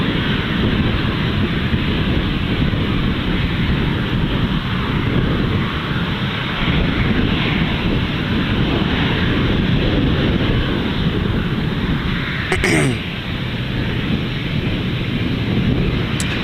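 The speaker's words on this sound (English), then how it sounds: "That EC-130 coming in." An EC-130 aircraft comes in to land at Gold Coast Airport, a broad, roaring rumble blended with heavy wind buffeting the microphone, loud and sustained throughout.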